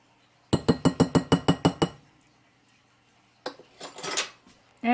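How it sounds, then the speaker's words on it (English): A utensil clinks rhythmically against a bowl while chickpea salad is stirred together with dressing, about eight quick evenly spaced taps, then a pause and a rougher burst of scraping and clattering, fairly close and with no talking. "And you're going to mix that all up until it's well combined."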